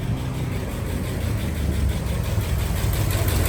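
A 1956 Oldsmobile Eighty-Eight engine idles with a steady, close, low rumble and a faint rhythmic pulse, continuous for the full few seconds with no voices.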